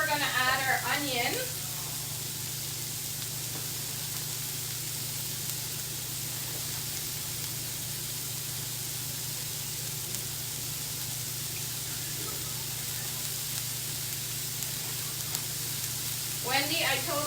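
Onion sizzling and frying in a hot pan for Guyanese-style chowmein, a steady broadband crackle running throughout, with brief voice bursts near the start and end.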